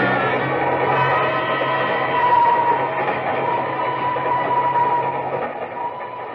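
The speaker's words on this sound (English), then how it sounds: "What a cattle train." Steady loud rumble of a train interior, continuous rolling drone with a low hum, no pauses.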